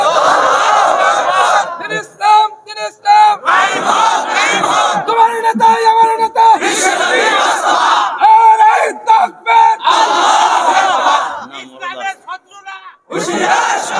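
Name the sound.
crowd chanting slogans at a religious sermon gathering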